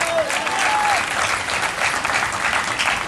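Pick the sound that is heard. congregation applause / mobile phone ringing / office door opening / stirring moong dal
congregation applause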